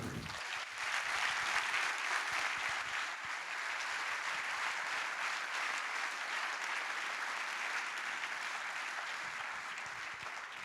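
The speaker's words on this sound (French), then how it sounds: "Je vous demande d'applaudir Étienne Klein" A large audience applauds a physicist in a lecture hall, steady and sustained for the whole stretch, dense clapping at even loudness with no voices on top.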